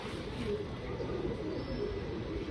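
Cheeni Gulzar pigeons, including a male, coo softly and steadily under a broad, constant background hum, with no distinct pauses.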